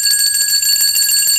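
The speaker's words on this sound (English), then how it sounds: "So let's ring some bells today," A bell, much like a bicycle bell, is rung rapidly and continuously. Its bright metallic trills are loud and close and run without a break, with no talking.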